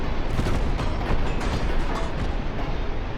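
Torpedo hits explode one after another against a battleship in the naval strategy game Ultimate Admiral Dreadnoughts, a dense, loud, continuous rumbling barrage of blasts with no talking.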